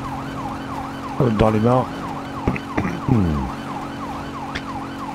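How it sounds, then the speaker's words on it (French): A police car siren in the video game GTA 5 Online wails in a steady, repeating up-and-down cycle from start to finish, with someone speaking French over it. "Moi, quand j'ai un véhicule de police avec les sirènes"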